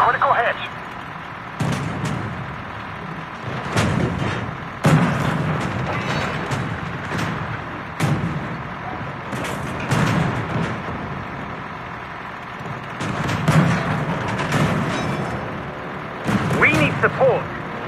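Tank cannon fire in the Tank Company video game, heavy booms repeating every couple of seconds across the stretch over engine rumble and battle noise, with voices talking throughout.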